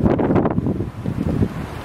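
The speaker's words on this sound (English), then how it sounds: "here it's very windy." Strong wind buffeting a microphone outdoors in Lalibela, Ethiopia, a loud continuous low rumble with gusty fluctuations and no clear other sounds.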